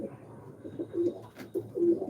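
Young racer pigeons coo softly nearby, a few low, throaty burbling calls spaced across a couple of seconds over quiet background noise.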